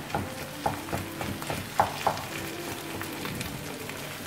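Masala potato filling for dosa is stirred and pressed down in a frying pan, giving soft scraping and stirring noises with a few light knocks over a low, steady sizzle, close by and without talk.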